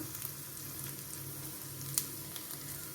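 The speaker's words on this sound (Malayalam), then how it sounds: "എണ്ണയ്ക്കകത്ത് ഇഞ്ചി ഇട്ടു കറിവേപ്പില ഇട്ടു കാന്താരി ഇട്ടു" Ginger frying in hot oil with curry leaves and bird's eye chillies for an egg thoran, a steady soft sizzle throughout with one brief sharper crackle near the middle, no voices.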